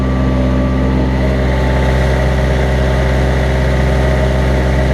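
A Hayter LT324 triple gang mower's engine idles steadily at close range after a cold start, a loud, even drone with strong low hum that holds unchanged throughout, with no talking.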